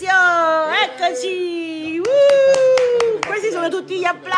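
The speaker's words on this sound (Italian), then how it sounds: "Questi sono tutti gli applausi." Hand clapping during a live New Year's broadcast, sharp claps scattered among tonal, wavering voices that sound sung or exclaimed, fairly close.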